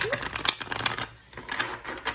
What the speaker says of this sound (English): I prefer the overhand shuffle with this because it just goes really, really smoothly